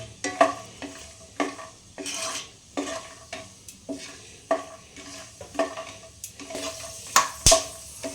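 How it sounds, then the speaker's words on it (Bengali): Peanuts being fried in oil in a pan, heard as a steady soft sizzle broken by repeated scraping stirs and light clinks of a utensil against the pan, with a sharper clatter near the end. "এটা বাদামটা একটু ভেজে নেব"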